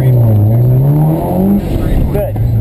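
A car on a race track takes a short, hard burst of acceleration in second gear, its engine droning loud and close throughout, while an instructor talks over it.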